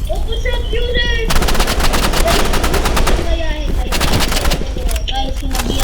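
AR rifle fire in the shooting game Rivals comes in rapid automatic bursts, two long stretches of fast, loud shots split by short pauses, with a voice speaking faintly underneath.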